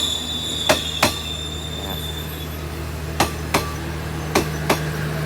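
Sharp metallic clacks come in pairs as the wheels of a Hitachi 4501 diesel locomotive-hauled express pass over rail joints, heard against a steady low rumble of the moving train.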